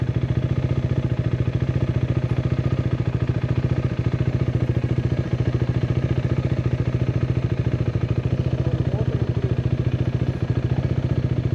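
A KTM Adventure 390 motorcycle runs on a road in the Kinnakorai hills. Its engine throbs with a steady, even pulse at close range and stays constant for the whole stretch, with no speech.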